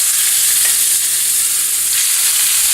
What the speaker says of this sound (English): Very hot pan. I'm going to lay these guys in here first.